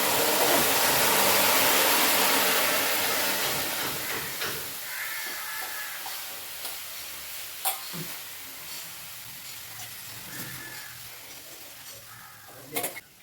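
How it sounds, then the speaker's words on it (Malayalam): A loud burst of hissing sizzle as green leaves hit a hot pan on high flame, gradually dying down to a quieter crackle with occasional clinks of stirring. "പച്ച ഇലകൾ ചൂടാക്കിയ പാത്രത്തിലോട്ട് ഒഴിച്ചു ചടവും കൂടവും സൗണ്ടുകളൊക്കെ ചെയ്യും"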